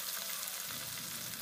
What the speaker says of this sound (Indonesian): Goreng-goreng, bakar-bakar.